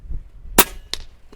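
A single sharp, close shot from a DAR Gen 3 .25 regulated PCP airgun cracks out of near silence, followed by a faint, brief echo-like knock.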